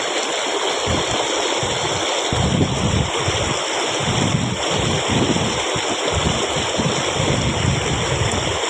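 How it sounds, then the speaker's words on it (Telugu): Loud, steady rush of fast-moving floodwater, a broad roaring wash with gusty surges and no voices. "ఇంత జోరుగా పోతున్నది"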